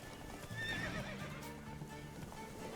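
A horse in The Witcher 3 gives a clear whinny amid galloping hooves and clip-clop, set against a busy game soundscape.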